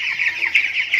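A chicken on a small backyard farm clucks in quick, close, fairly loud bursts, a rapid uneven chatter of short calls running throughout the moment.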